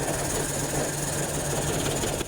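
A Suzuki F6A 12-valve engine that has been hard to start runs steadily and roughly, with a constant mechanical drone and a low hum that hold loud for about two seconds before cutting off abruptly.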